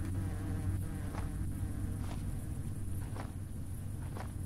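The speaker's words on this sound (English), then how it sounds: "Why are there so many damn bees?" Bees buzz in the video game Hungry Lamu, a faint continuous insect drone with several brief louder swells passing by.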